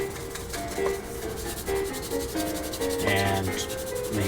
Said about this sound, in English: I'm going to switch to a lighter sandpaper. This one is actually 3000 grit.